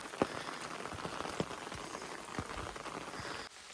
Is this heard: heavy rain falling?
yes